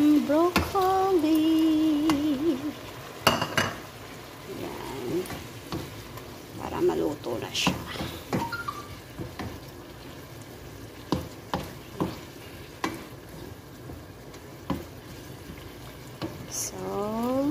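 Broccoli dropped into camel liver already frying in a pan: a steady sizzle with stirring clatter and light scraping, under a person speaking.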